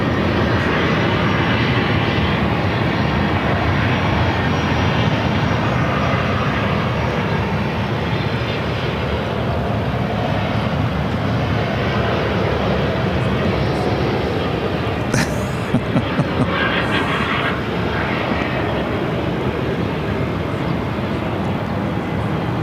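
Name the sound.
Southwest Airlines Boeing 737-800 arriving at Phoenix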